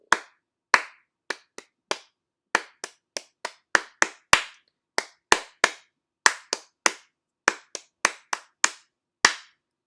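A single person claps a rhythm pattern for a music lesson, sharp, close, distinct hand claps in uneven groups separated by short silences, with no talking.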